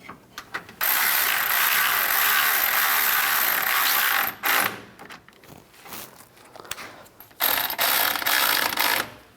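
Repeated bursts of ratchet clicking as bolts are tightened on the radiator cooling fan assembly of a 1997-2001 Honda CR-V, close and loud, with two longer runs broken by brief pauses and short stops.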